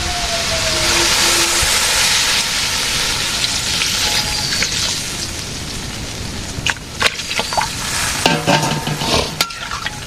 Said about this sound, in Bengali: কষানো হয়েছে এখন একটু ঝোল দিয়ে দেবো